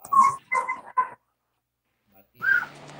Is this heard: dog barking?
yes